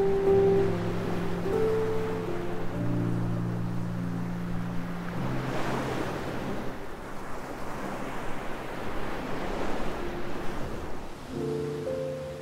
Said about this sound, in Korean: 바람에 밀려 하얀 물보라를 만들어내는 파도가 지나가고 나면